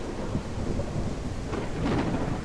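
Steady rain hisses with low rumbling thunder rolling underneath in the Gothic 1 Unreal Engine video game, a dense continuous wash of storm noise.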